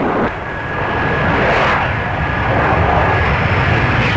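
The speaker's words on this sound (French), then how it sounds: "cet appareil à réaction se comporte comme tous les autres avions" A British vertical-takeoff jet aircraft from 1960 roars in flight, a steady loud broadband jet rush with a faint whine that holds for the whole stretch.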